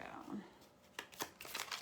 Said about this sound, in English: This is the Chicoli deck. Give it a shuffle and see what we have going on